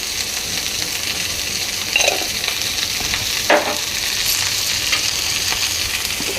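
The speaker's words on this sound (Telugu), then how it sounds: "నూనెలోకి ఒకసారి అటు ఇటు తిప్పి వేయించండి" Pieces of ivy gourd fry in hot oil with a steady close sizzle, and a few brief scraping knocks come through as they are stirred in the pan.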